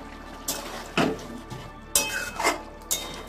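Boiled eggs added to a curry pan and stirred, with a few distinct clanks and scrapes of a spoon against the pan at irregular intervals over a low background hum.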